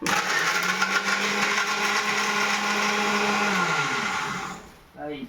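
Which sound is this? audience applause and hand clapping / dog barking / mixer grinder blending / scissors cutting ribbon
mixer grinder blending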